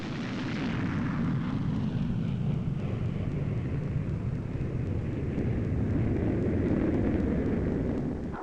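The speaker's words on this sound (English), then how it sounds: "Afterburner turned on. Time interval to the following patrol, 10 seconds. Steep takeoff." Northrop F-5E Tiger II jets in Swiss service taking off with afterburner, a loud sustained roar with heavy low rumble that swells and holds throughout, with no speech.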